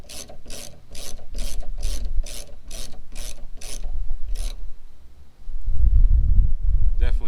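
Metal scraping against the inside of a Chevrolet Tahoe, GMC Yukon or Cadillac Escalade roof rack part while it is being removed, a series of rhythmic broadband scrapes in steady strokes, then louder low rumbling handling noise toward the end.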